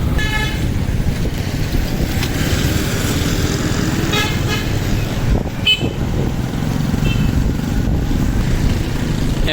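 A motorcycle rides through busy town traffic in Jahaniya with a steady loud engine and road roar, while vehicle horns toot in several short bursts, some close and some farther off.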